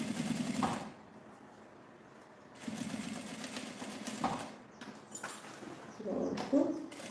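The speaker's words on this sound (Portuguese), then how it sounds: "Aqui eu vou passar a costura na aba, onde está aquela abertura. Eu vou costurando devagarzinho." A sewing machine stitches slowly along the opening of a fabric flap on a toiletry pouch, faint bursts of rapid mechanical whirring starting and stopping with quiet pauses between them.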